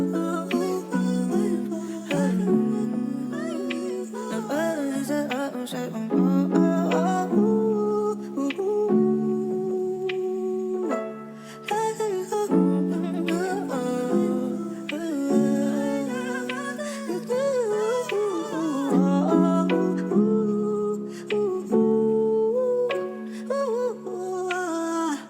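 Melodic music sample for a trapsoul beat, with layered tones and gliding pitched lines over sustained harmony, steady and full throughout, no talk.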